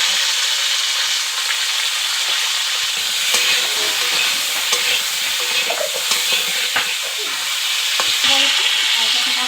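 Cauliflower fries in a pan with turmeric, a loud steady sizzle with bubbling crackle and occasional stirring scrapes, close and continuous with no talking.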